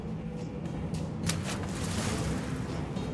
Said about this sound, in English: An explosion in one of your factories.